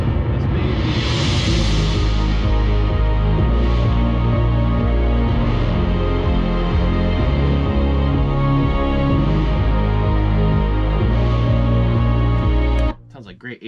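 Layered 80s-style synthesizer patch with chorus, thick sustained chords over a pulsing low bass line in a dense, loud mix that cuts off abruptly near the end.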